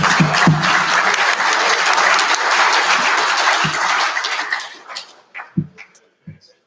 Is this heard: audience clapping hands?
yes